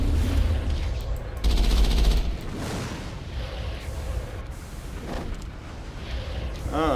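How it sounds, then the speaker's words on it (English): Suppressing gunfire in the Mass Effect video game, a dense rattle of automatic shots and booms that rises and falls across the scene, mixed with talk. "Ah, suppressing fire."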